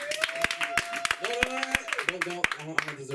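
Sparse, scattered claps from a small audience at a comedy open mic, sharp and fairly close, with someone talking over them throughout.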